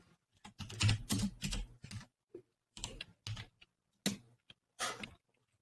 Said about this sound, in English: I really wish your keyboard wasn't so loud.